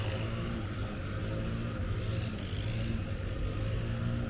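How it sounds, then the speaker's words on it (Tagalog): A motorcycle engine drones steadily and fairly loudly throughout on a Sunday morning ride at Linear Park in Filinvest, Alabang, with no clear approach or fade. "Ito yung motor ulit."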